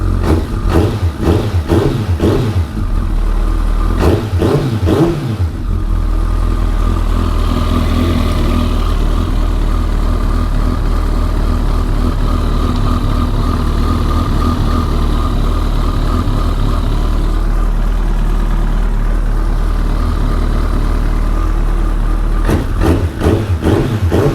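A 2013 Kawasaki ZX-14R with an aftermarket Yoshimura exhaust runs at a steady idle, with short throttle blips at the start and again near the end.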